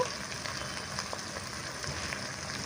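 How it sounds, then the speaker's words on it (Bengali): A village-style aar fish masala fries with turmeric and chili powder, a steady close sizzle and crackle without pause. No one speaks. "এবারে আমি দিয়ে দেবো হলুদ গুঁড়ো আর লঙ্কা গুঁড়ো ওটা দিয়ে ভালো করে আমি আবার কষিয়ে নেব"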